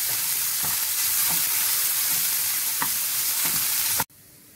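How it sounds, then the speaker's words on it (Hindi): Loud continuous sizzling of garlic, onion and ginger frying in hot oil, with a few soft stirring scrapes, cutting off abruptly near the end. "इन तीनों को अच्छे से भून लेना है।"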